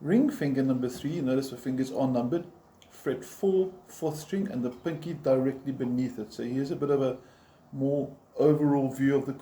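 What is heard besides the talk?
No everyday noise stands out behind the speech.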